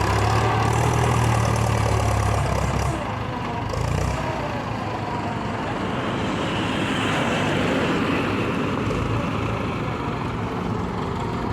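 A tractor engine runs by the roadside in a steady, loud, rumbling drone that continues without a break, with no voices.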